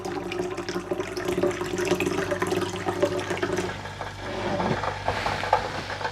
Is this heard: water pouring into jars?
yes